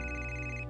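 A phone ringtone sounds in one steady, sustained electronic tone, loud and close, with no voices.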